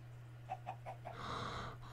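Short clucking calls from a chicken in the Minecraft video game, four quick clucks followed by a brighter, busier burst, set against a steady low hum.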